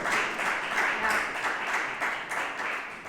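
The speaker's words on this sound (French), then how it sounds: "Est-ce qu'on peut encore applaudir pour le Seigneur?" Church congregation applauding in praise, a dense, steady wash of many hands clapping close and loud throughout, swelling slightly in waves.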